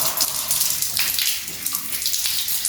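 Water splashes and pours over the feet while they are washed during ablution (wudu), a close, steady running and splattering with no speech.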